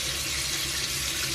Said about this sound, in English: all I'm going to do is just put some water on my hands